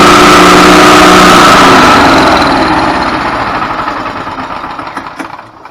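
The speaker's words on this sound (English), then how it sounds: "I don't want to bore you with just an engine running." A golf cart's small engine runs loudly up close, then winds down and sputters unevenly to a stop.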